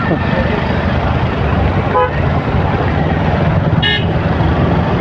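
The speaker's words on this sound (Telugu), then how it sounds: "ఇక్కడ మొత్తం ట్రాఫిక్ ఉంది" Dense road traffic on an outer ring road service road rumbles continuously and loudly, with a couple of short car horn toots cutting through the steady engine roar.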